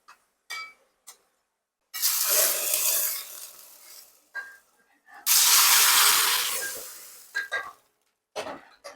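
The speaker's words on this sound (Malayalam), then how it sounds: "ഇനി ഇതിലേക്ക് ഞാൻ ചെറിയ ഉള്ളിയാണ് കേട്ടോ വറുത്തിടുന്നത്." Shallots fry in hot oil, sending up two loud bursts of sizzling hiss as they hit the pan, separated by quieter stirring and clinks in a home kitchen.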